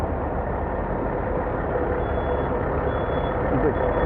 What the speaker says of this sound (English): Another Kenworth. This guy having a hard time backing in because of that.